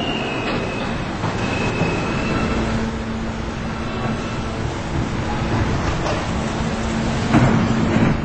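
Q Express train running in a video game, a steady, loud rumble of wheels on track with faint squeals and clicks, a brief sharper clank near the end, and no talk.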